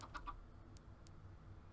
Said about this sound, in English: That was a bunch of chickens